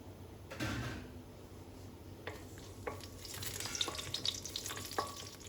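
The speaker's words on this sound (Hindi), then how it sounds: "साथ ही ऐड करेंगे बड़ी इलायची 2 और दालचीनी थोड़ी सी और इसको अच्छे से मिला लेंगे" Shahi jeera, black cardamom and cinnamon fry in hot oil for paneer tikka masala, a soft sizzle under scattered spoon scrapes and clinks of stirring against the pan, fairly quiet and close.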